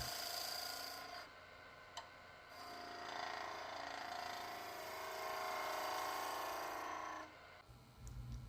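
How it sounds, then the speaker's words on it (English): A wood lathe turning a small dry bud vase under a skew chisel gives a soft, steady scraping and rasping hiss that swells and fades over several seconds, quiet and close, with no voices. "The spindle roughing gouge doesn't leave a great finish on the surface, so I switch to the skew to clean things up."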